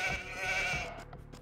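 A single short sheep bleat sounds in a village-building strategy video game, wavering and fairly close before trailing off.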